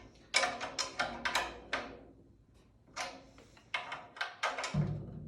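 A drum tuning key turned on a tension rod to lower batter head tension, a series of close, crisp ratcheting clicks in two quick bursts separated by a short pause.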